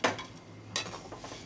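Ivy gourd (dondakaya) fry being stirred in a pan, with a clatter of the spoon at the start and another scrape partway through, then softer scraping and light sizzling, close and fairly quiet.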